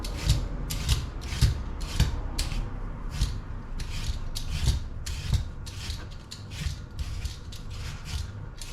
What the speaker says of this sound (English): I'm just going to peel them, literally taking the skins off them